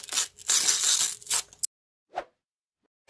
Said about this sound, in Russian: Открываем наконец-таки наш пакетик